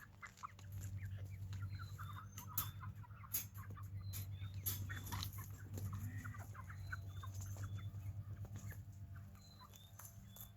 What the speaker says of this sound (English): we're going to let these chickens out and get them some food